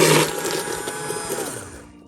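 A blender purees tomato bisque soup in a kitchen, a loud, steady whirring grind that holds for a couple of seconds and then winds down and fades as the motor slows.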